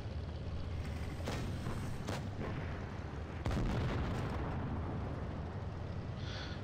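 Tank autoloader shells fire in World of Tanks Blitz as a few muffled booms over a constant rumbling game background, with one sharper, louder shot near the middle and no talking.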